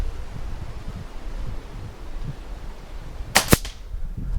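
FX Wildcat air rifle fired at a garden target, a single sharp crack followed by a quick second snap, set against quiet outdoor wind noise.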